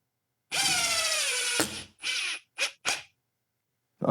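A power drill drives screws into sheetrock with a loud high whine lasting about a second, followed by several shorter bursts as the screws are sunk in, near and alone.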